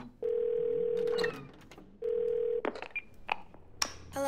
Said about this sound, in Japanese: で、はい、もう速攻で電話します。